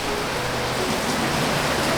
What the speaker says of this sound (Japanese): すごい雨でございますよ。